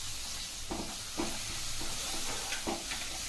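Ginger garlic paste fries in a pan with a continuous low sizzle, broken by soft periodic stirring scrapes at a steady rhythm, fairly quiet and close.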